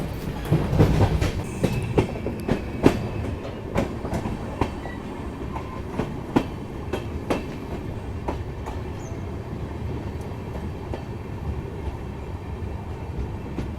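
A train rolls into Kadur junction railway station on the Chikkamagaluru–Tirupati route, its wheels clicking over rail joints in a steady clickety-clack rhythm that grows louder near the start and then settles into a continuous rumble, with no talking.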